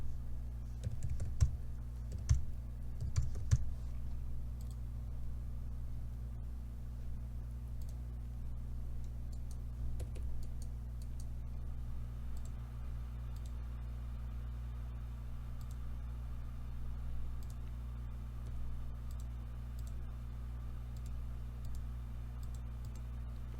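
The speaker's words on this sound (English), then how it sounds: "unfortunately, you have to type out these rules manually" Typing rules on a computer keyboard while working in AutoCAD, steady clicky keystrokes in quick bursts, fairly close and moderately quiet over a constant low hum, with no talking.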